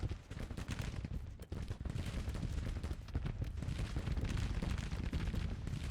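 Dense Civil War musket volleys from a strategy video game battle, a continuous crackling barrage of overlapping shots at steady loudness with no talk.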